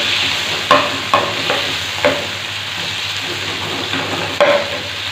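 Chicken and garlic sizzle steadily in hot oil in a pan, loud and close, with several sharp scraping clacks of a spoon stirring at irregular intervals.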